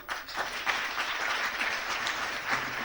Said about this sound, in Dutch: Een applaus voor Raymond.